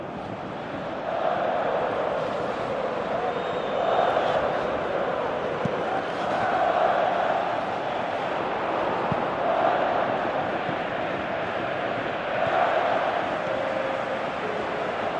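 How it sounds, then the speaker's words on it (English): A distant stadium crowd at a football cup final in extra time roars continuously, swelling and easing in waves beneath a windy, rushing background. "you can hear how the crowd are reacting to this too"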